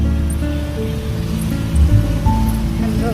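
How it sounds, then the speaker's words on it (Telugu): Water rushes strongly beneath a bridge in a continuous broadband wash, steady and fairly close, with faint voices and passing traffic noise mixed in. "సో ఇక్కడ అయితే వాటర్ ఫ్లోయింగ్ బాగా వెళ్తుంది."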